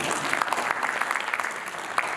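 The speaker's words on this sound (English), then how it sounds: "Why can't you clap for me?" Audience clapping at a Nairobi marketers' evening event, a dense continuous patter of many hands held at steady volume for a couple of seconds, with no talk over it.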